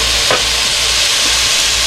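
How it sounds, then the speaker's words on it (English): Four pieces of bacon frying in a pan as the base for okra and tomatoes, a dense, loud, continuous sizzle with a brief scrape near the start. "I have 4 pieces of bacon going in"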